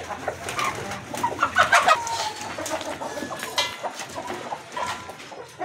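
Chickens cluck and chatter close by, a busy flock with overlapping soft calls and a few sharper squawks, no talk.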